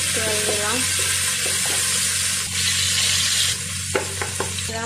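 Onion and spices sizzling and being stirred in a pan for a fish and bottle gourd curry, a steady hiss with scraping stirs, a faint tap-water sound and a few scattered clinks toward the end.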